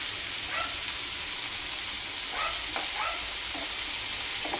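Slit green chilies sizzle in a pan of hot oil for masala capsicum curry, a loud, continuous close-up crackle with a few soft scrapes of stirring and no voices.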